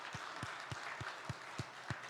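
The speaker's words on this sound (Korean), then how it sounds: "우리 하나님께 영광의 박수 올려드리겠습니다." A church congregation claps during a Sunday worship service, producing a steady series of about seven soft, evenly spaced claps that are fairly faint and sit over a quiet room.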